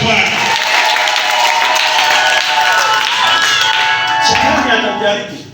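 Church congregation clapping for the Lord at a prayer seminar, dense sustained applause with scattered shouts and voices, loud and continuous before tapering off at the end.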